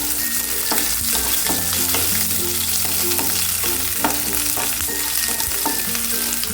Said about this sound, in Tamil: சின்ன வெங்காயம் கொஞ்சம் நல்லா வதங்கட்டும்